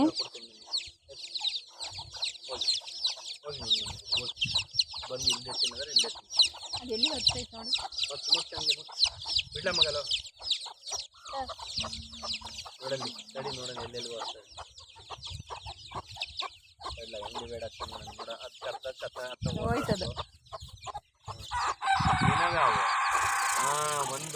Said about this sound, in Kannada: ಹೀರೋ ಅಂತ ಹೀರೋ ಮನೆ ಹತ್ರ ಬಂದು ಕೋಳಿ ಮರಿಗಳೆಲ್ಲ ಫುಲ್ ಬಡ್ಕೋತಾ ಇದ್ವು